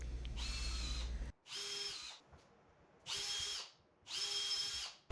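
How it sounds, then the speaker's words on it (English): A power drill pre-drills nail holes through wide pine floor planks, running in four loud bursts of about a second each with short pauses between. "I'm gonna go ahead and pre-drill my holes for the nails"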